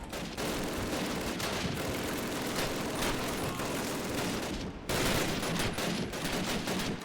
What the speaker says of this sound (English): A lot of MGs.